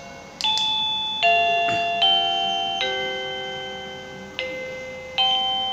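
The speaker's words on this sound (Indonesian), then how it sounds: "Ini bel biasa" A ZEHN ZN-903Y digital wireless doorbell plays a standard chime, a sequence of clear sustained electronic tones stepping between pitches, each struck note decaying slowly, loud and close with no talking.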